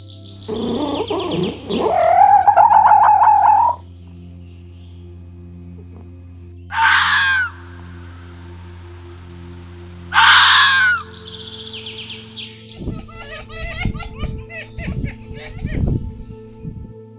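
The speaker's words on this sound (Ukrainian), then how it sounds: "Давайте послухаємо як може розмовляти, кричати та сміятися ця красуня." A wild red fox calls: wavering, high yelps open, followed by two short, harsh screams separated by pauses, then a run of quick chattering barks, all close and loud.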